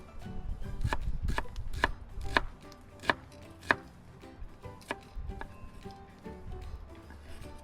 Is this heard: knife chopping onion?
yes